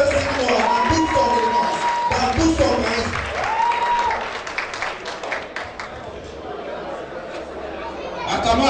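An audience at a meeting applauds to welcome the president, with clapping and crowd chatter rising and fading, mixed with someone talking over a microphone.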